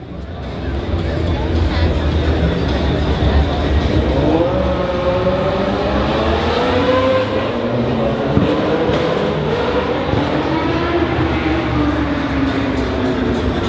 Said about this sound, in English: But check out the exhaust, it's pretty dope.